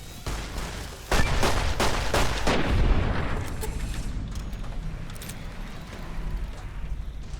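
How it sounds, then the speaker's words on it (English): Gunfire in the video game Fallout: New Vegas, with several loud, close shots in quick succession early on, then a ringing, echoing rumble that fades into a steady background hum. "I'm just shooting the fucking dirt."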